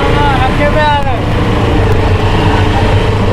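Auto rickshaw engine droning steadily throughout a ride past a colony drain in Pakistan, loud and continuous with wind buffeting, while people talk over it.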